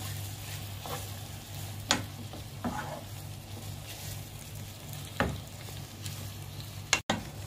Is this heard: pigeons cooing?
no